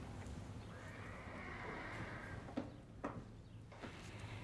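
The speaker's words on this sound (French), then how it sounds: "Lisa, tu dois comprendre que c'est un vrai cheval" A horse neighs in a long whinny in an animated horse-riding series, followed by a few soft hoof clops, faint and with no talking.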